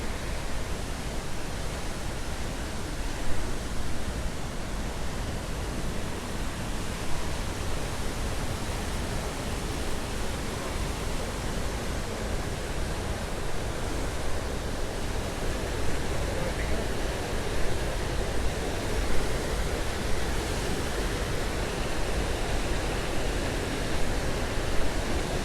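Aira Force waterfall rushes in a constant broadband roar, a steady wash of falling water heard up close with no breaks or voices.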